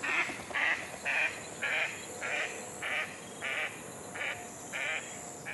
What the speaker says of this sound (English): The most recognisable is a rapid succession of quacks, declining in pitch and increasing in tempo.